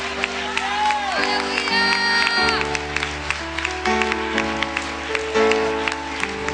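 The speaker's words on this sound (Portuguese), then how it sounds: "Gente, aplaude e glorifica Jesus." A congregation claps and cheers at an evangelical church service, the applause blending with sustained keyboard or organ chords and scattered shouts. It is steady and moderately loud across the whole stretch.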